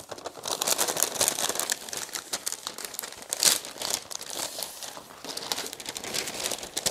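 Plastic packaging from a Tamiya VW Golf GTI MK2 rally model car sticker set is opened, giving continuous close crinkling and crackling with small tearing bursts.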